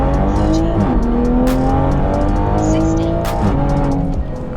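A BMW M340i with the B58 engine makes a launch-control run with wheelspin, its loud, steady engine drone holding near and continuous while the pitch climbs and then drops back through a gear change.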